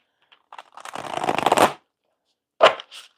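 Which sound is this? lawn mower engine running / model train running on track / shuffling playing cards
shuffling playing cards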